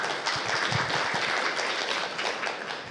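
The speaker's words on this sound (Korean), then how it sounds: "우유창 책임 박수로 맞이해 주시기 바랍니다." Steady audience applause at a hybrid-system engineering workshop, welcoming a speaker to the podium, continuous and fairly loud throughout with no talking over it.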